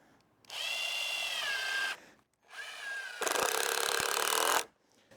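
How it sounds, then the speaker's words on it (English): A power drill drives a screw into a wooden saw horse. The motor whines in three bursts with brief pauses between them, and the final burst is rougher and louder as the screw bites in, up close with no talk. "Install 1 screw on that end."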